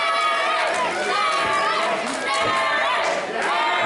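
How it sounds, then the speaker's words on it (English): A dense, roaring wrestling arena crowd cheers and shouts continuously, with rising swells of voices throughout. "hear this crowd rallying"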